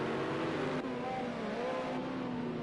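GT1 race cars run four wide down the back straight at Portimao in a racing game, a sustained engine drone with layered, shifting pitches as several cars rev together, steady and loud.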